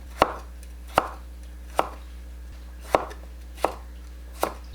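A knife chops through food on a cutting board while slicing it thinly for kimbap, making six crisp, evenly spaced strikes about a second apart, close and alone against a low steady hum.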